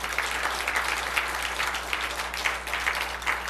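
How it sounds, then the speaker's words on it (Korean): A church congregation claps during a Sunday morning sermon, with many hands producing a steady, moderately loud patter that fills the room for several seconds over a low constant hum. "박수 한번 쳐주세요."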